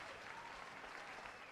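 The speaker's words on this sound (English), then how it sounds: "We're going to give a round of applause for Samuel." A round of applause for Samuel, dense steady clapping throughout, faint and distant-sounding, with no voices on top.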